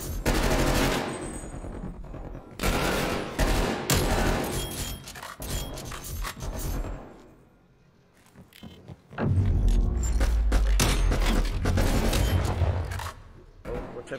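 Automatic gunfire rattles in dense, loud bursts during a Call of Duty Cold War multiplayer match, dropping to a brief lull before heavy firing and deep thumps resume, with speech faintly mixed in.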